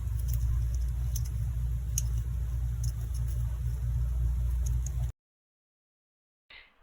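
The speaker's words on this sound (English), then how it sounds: "And we still hear that crazy traffic, but we are getting fresh air." Distant road traffic forms a steady low rumble for about five seconds, then cuts to silence before a faint return, with scattered light ticks and patters over the hum and no speech.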